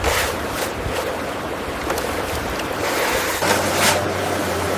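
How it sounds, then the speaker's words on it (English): Water rushes into a sand pit dug by a plastic toy excavator, a steady broadband wash with a few splashy surges, fairly loud and close, no talk. "The water's coming in."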